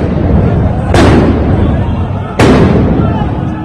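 Stun grenades fired by Israeli police to disperse Muslim worshippers at the Al-Aqsa Mosque compound: two loud, sharp blasts about one and a half seconds apart over a dense, noisy crowd din.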